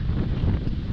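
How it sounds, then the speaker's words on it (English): Strong outdoor wind buffeting an unshielded microphone on a very windy day, a continuous loud low rumble with gusty fluttering and no voices for the whole second. "Sorry about the wind, it's super windy today."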